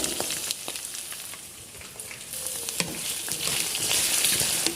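Potatoes, carrots, onion and other vegetables frying in a pan over medium flame, a constant crackling sizzle that swells toward the end, dotted with light stirring clicks, close up with no voices.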